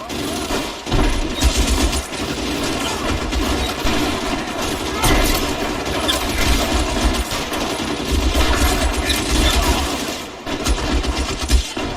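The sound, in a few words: gunfire in video game LA Noire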